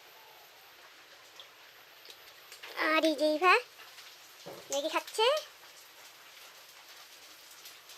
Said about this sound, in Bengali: আর বাইরে বৃষ্টি হচ্ছে